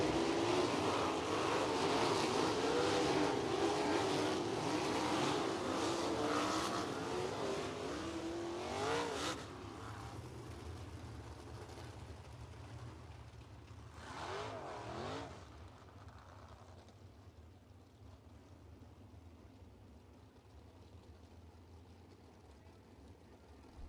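Sprint cars race through a USAC heat at Lincoln Park Speedway, a loud roaring engine drone that swells and fades as the pack passes, then drops to a quieter, more distant rumble.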